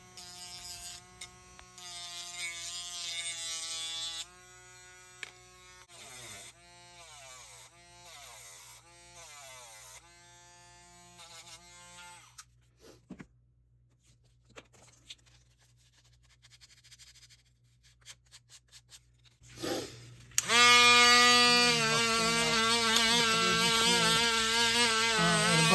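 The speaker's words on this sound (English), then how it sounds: "to sand the cut ends with a rotary tool" A rotary tool sands and smooths the cut ends of a handmade wand, its high whining buzz starting and stopping in bursts and changing pitch as the workpiece is shaped, with quieter gaps between passes.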